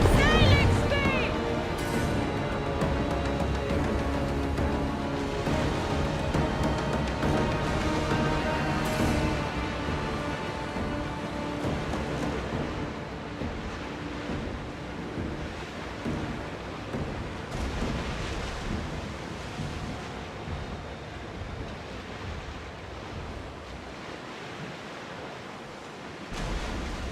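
Sailing ship at sea in Assassin's Creed Odyssey, with steady rushing waves and wind around the hull under music and occasional spoken voices.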